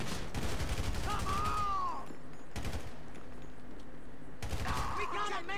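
Gunshots from GTA 5 story mode crack out in short bursts at the start, middle and end, over a steady background of game noise, with voices heard between volleys.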